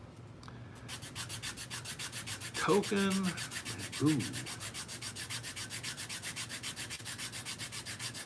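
Rapid, regular rasping strokes of sandpaper scrubbing 3D-printed plastic, steady rhythm throughout, with a brief vocal exclamation partway.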